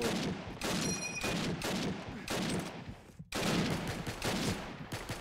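Dense, rapid gunfire from a shooting video game crackles in continuous bursts for several seconds, with a brief gap partway through before the firing resumes just as loudly.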